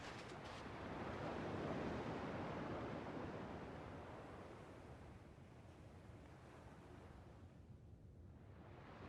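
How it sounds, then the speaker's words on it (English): Ocean waves from the video game Kingdom Hearts II wash in a continuous soft roar of surf, swelling then easing gradually, heard alone without talking. "At least the waves sound the same."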